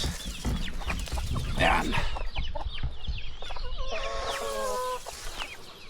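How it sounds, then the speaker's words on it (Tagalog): Chickens cluck and squawk close by in a busy, overlapping flock inside a coop, with a brief word spoken partway through. "Punta tayo dyan sa ating manukan."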